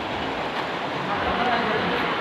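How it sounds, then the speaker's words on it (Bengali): The Apalchand river flows beneath a bridge near Gajoldoba, where elephants cross. Its water makes a steady, broad rushing wash, close and even, with no break over the whole stretch. "আপালচাঁদ নদী।"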